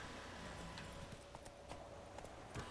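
Horse hooves clip-clop faintly in The Witcher 3, a steady patter of light hoofbeats under a dense, loud wash of game ambience and music.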